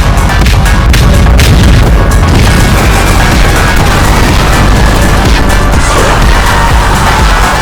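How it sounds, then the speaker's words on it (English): Incendiary artillery shells explode over swarms of biters in the Factorio video game, a dense, continuous rumble of overlapping booms and crashes that stays loud throughout with no voice heard. "This bit of biter incineration gave me the strength to continue our galactic conquest."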